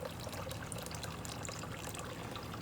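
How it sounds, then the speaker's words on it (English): Water runs and trickles steadily off a soaked hydration sock lifted from its kit, a faint, continuous wet dribbling with no talk. "now what we want to do is just take it out and wait till all the water stops running"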